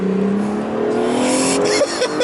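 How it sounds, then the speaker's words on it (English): A 2017 Acura NSX launches hard under launch control, its engine note climbing steadily in pitch as it pulls through the gear, loud and close with a brief burst of noise near the end. "The launch control of this car is ridiculous"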